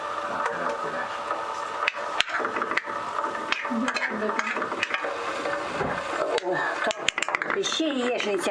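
Eggs frying in sour cream in a pan in a mountain village kitchen, a steady close sizzle with scraping and clinks of stirring, while people talk over it.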